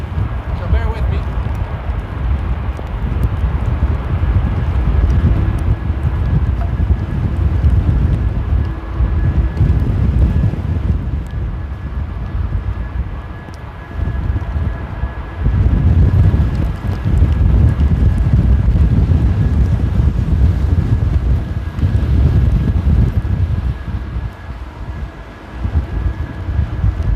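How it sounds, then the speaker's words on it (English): Heavy rain and strong wind batter the microphone during a storm at Amsterdam airport, producing a loud, continuous low rumble and roar with gusty swells and a faint steady tone underneath. "now the rain is in full force"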